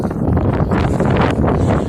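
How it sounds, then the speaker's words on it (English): Strong high wind buffets the microphone outdoors in freezing weather, a loud continuous roar of rumbling wind noise that never lets up. "So it is pretty windy."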